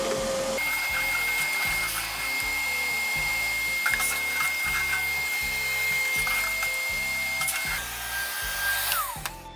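Close, steady whine of a small vacuum cleaning out a pellet grill hopper, running continuously, with rattling and knocking as the nozzle moves around, and a pitch shift near the end.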